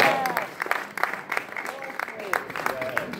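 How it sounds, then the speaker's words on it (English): Audience applause at an awards event, with clapping mixed with talking and scattered whistles or cheers at a moderate distance throughout. "Ladies and gentlemen, big round of applause."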